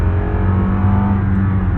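Engine of a third-generation Lexus RX350 SUV revving as the accelerator is pressed, a steady loud drone with strong low harmonics held throughout, close and alone with no talk.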